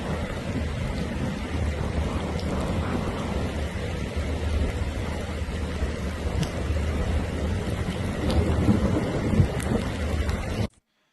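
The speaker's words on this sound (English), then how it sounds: "the heavy rainfall and the flooding that's occurring in Kaliningrad" Heavy rain and floodwater in Kaliningrad make a steady, dense wash of noise with a low rumble, continuous and loud for about ten seconds before cutting off abruptly.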